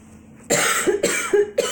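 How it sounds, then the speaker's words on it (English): A person coughing after breathing in dust outdoors during yard cleanup: a close, loud series of three or four harsh, rough coughs in quick succession, with no speech. "all that dust outside made me want to cough"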